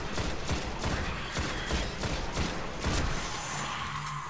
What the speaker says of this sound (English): Shotgun's OP.